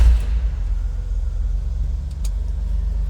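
Air-cooled flat six of a 1963 Chevrolet Corvair Greenbriar van idling just after starting, a steady low rumbling throb with an even pulse, close and loud throughout with no talk.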